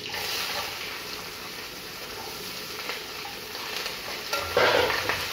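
Food being stirred in a sizzling frying pan during home morning cooking, a continuous hiss and crackle of frying with soft scraping and occasional clinks of a utensil against the pan, close and steady.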